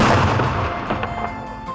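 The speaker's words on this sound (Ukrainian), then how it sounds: "А ось ранковий постріл гармати, що закликає прокидатись." A single loud morning cannon shot booms at the start, its deep rumble rolling and echoing away over the next second or so.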